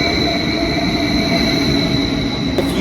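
A train at Zurich HB, one of Switzerland's largest railway stations, gives off a steady, loud rumble with a sustained high whine. A brief shift in the noise comes near the end.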